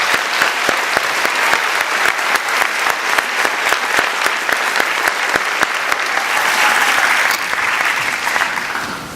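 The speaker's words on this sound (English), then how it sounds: "Y'all please join me in giving all 22 a round of applause" A crowd at a Teacher of the Year 2012 ceremony applauds steadily and loudly, dense clapping sustained for about nine seconds before easing slightly at the end.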